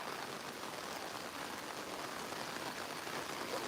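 Morning rain falling in Virar makes a steady, dense hiss of drops on surfaces, even and unbroken at a moderate distance, with no voices.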